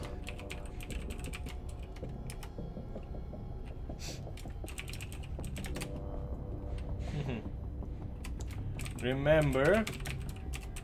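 Fast clicking of a computer keyboard runs steadily and close throughout, with a brief spoken word near the start and a voice rising over the clicks toward the end.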